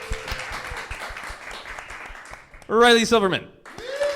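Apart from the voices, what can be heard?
audience applause voting for quiz winner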